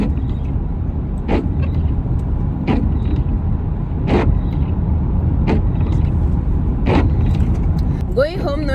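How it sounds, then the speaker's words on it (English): A car drives along a road with a steady low engine and road rumble, broken by several brief creaks or clicks at regular intervals and a short squeaky sound near the end. "So I'm driving home right now"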